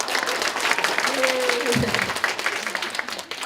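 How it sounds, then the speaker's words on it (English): A group of students claps together in a classroom, a dense, continuous patter of many hands at moderate level, with a voice briefly heard over it midway. "And now let's clap 20 times."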